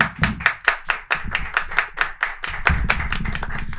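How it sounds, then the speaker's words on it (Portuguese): A few people clap during a podcast recording, each clap crisp and close-miked, about fifteen rhythmic strikes that grow denser and overlap toward the end. "Salve de palmas."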